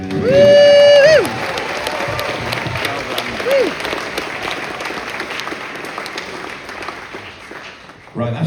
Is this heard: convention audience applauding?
yes